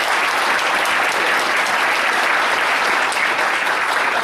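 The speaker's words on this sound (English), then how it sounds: "Let's give them a round of applause" A loud, even round of applause from the audience at the Auburn State of the City Address for the event sponsors, continuous dense clapping with no break.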